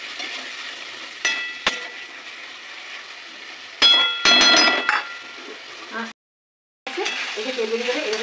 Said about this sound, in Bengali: এভাবে মশলাটা এবার কষিয়ে নেবে